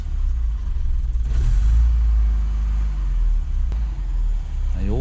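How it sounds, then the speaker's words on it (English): Old car engine just started and idling on the choke, a loud, deep, continuous rumble close by with a slight rise in revs early on, a faint voice underneath. "this car's just started. It's still on the choke."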